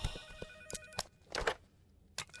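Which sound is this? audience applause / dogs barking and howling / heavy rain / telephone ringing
telephone ringing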